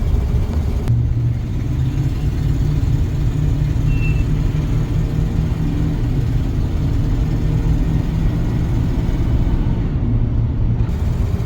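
A 1994 Ford F350 4x4 fast attack fire pumper truck, formerly owned by a fire district, idles with a steady low engine rumble that holds evenly throughout, close by and with no talking.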